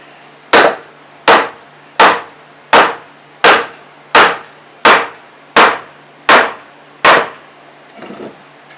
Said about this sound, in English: I need my bigger hammer.